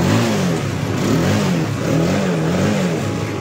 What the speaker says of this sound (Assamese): এতিয়া মই এক্সেলটা দি দেখুৱাম